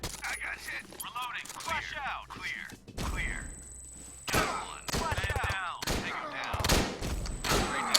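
Gunfire in the Door Kickers video game comes as several loud bursts and rapid volleys, close and sharp, with someone talking over much of it.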